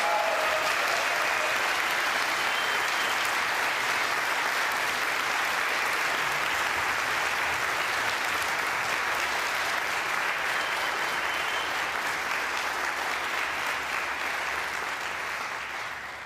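A room full of audience members at a Wisconsin workers' forum for governor applauds the candidates, producing a broad, continuous roar of clapping that stays loud and even throughout, fading slightly near the end.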